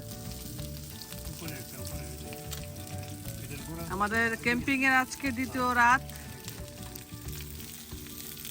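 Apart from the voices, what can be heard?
kebabs frying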